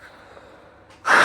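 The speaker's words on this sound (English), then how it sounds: "Sorry, I'm blowing my nose" A person with a cold blows their nose into a tissue, a short loud burst of blowing that comes after a quiet stretch of breathing.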